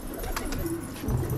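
Soft, low pigeon coos sit in a steady background hum, with a couple of brief fluttery bird sounds near the start and no one speaking.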